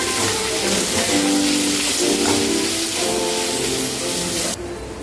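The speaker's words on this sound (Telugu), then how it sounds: "ఇప్పుడు మనం ఆనియన్స్ వేసుకుందాం." Onions fry in a pan with ginger-garlic paste for egg biryani, giving a loud, continuous close-up sizzle and hiss over faint background music. The sizzle drops in level just before the end.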